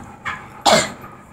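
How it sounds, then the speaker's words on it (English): A single sharp cough, sounding almost like a sneeze, preceded by a brief breathy catch, close and loud with quiet room tone around it. "It sounded like a sneeze, didn't it? It's a cough though."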